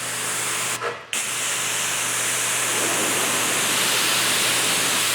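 Kranzle or AR pressure washer spraying through a 7.0 nozzle, a loud steady broadband hiss running almost throughout, briefly cut off for a moment near the start before resuming at full force.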